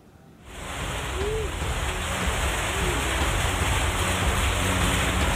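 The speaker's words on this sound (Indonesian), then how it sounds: "heboh fenomena hujan es menerjang wilayah Goa, Sulawesi Selatan hingga viral di media sosial" Hail pelts down in Gowa, South Sulawesi, Indonesia, striking around a house terrace. It starts abruptly after a brief quiet moment, then becomes a dense, steady patter that stays loud and continuous.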